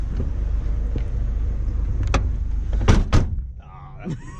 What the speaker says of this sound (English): We should shut the doors at the same time.